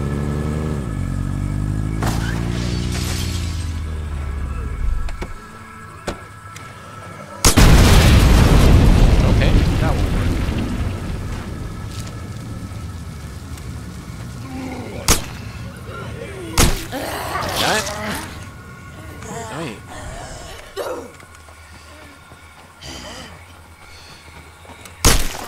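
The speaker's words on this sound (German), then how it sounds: "Explosionsradius vollkommen falsch eingeschätzt." Explosions in the State of Decay zombie video game: a huge roaring blast erupts partway through, followed by scattered sharp booms and cracks, with speech heard at points around them.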